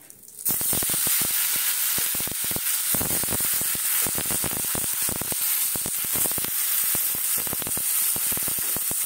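Amla sizzles and fries in hot ghee in a pan, a loud, dense crackle with rapid pops that bursts in abruptly and holds steady close to the mic, with no voices.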